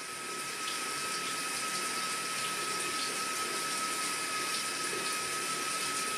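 Steady hiss of water running from a light-changing shower head, a constant even spray with no talk, close and moderately loud throughout.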